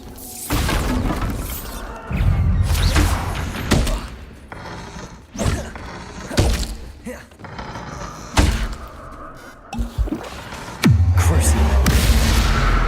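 Bombarda blasting spells in Hogwarts Legacy: a rapid series of loud, heavy thuds and crashing explosive impacts, repeated every second or two with rumbling tails, over game ambience.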